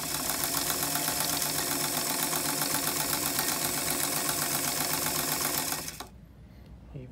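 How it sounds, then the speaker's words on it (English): A 1956 Singer 66-16 sewing machine stitches fabric in a steady, close, rapid mechanical chatter that runs for about six seconds, then stops abruptly. "I will round the corner and then sew it on the way back."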